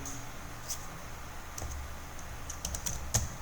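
Quiet typing on a computer keyboard, a few scattered key clicks in short bursts, close and faint over low background hum.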